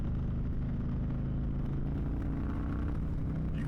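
An Indian Chieftain motorcycle engine pulls and accelerates in Standard mode with a smooth throttle, a steady low rumbling drone mixed with wind noise throughout.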